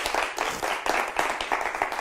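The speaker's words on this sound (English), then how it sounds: "Give a big clap." A small audience claps at a magic lecture, a short burst of distinct, fairly quick individual claps close to the microphone, uneven in rhythm and ending after a couple of seconds.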